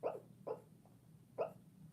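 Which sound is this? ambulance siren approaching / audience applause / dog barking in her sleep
dog barking in her sleep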